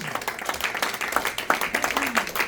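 Congregation clapping in a Spanish-language church service, a dense patter of hand claps at steady moderate loudness with a faint voice or tone beneath.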